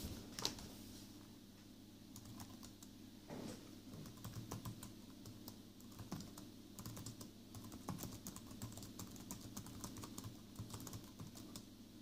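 Fingers type on a Lenovo ThinkPad T490 laptop keyboard, soft close clicks in a steady run with short gaps, very quiet over a faint background hum.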